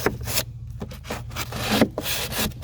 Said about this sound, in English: And really, this drywall knife works